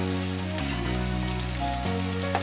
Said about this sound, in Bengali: পেঁয়াজটাকে হালকা লালচে হওয়া অবধি ভাজতে হবে।